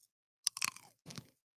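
A crunchy fresh cherry is bitten and chewed close up, a sharp crisp snap followed by a couple of brief wet crunches, with silence around them.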